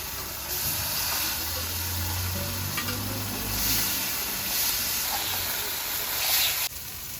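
A spice masala with turmeric and salt fries in a pan as a steady, close sizzle with hiss, stirred now and then, while a low hum runs underneath partway through and no one speaks.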